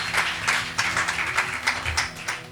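Audience applause at a Mumbai church gathering, a steady wash of many hands clapping with rhythmic swells, moderately loud and continuous throughout.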